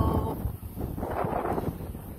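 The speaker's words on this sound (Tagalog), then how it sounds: "So, medyo mahangin." Wind gusts buffet the microphone at Stave Lake in Mission, British Columbia, a low rumbling roar that rises and falls briefly.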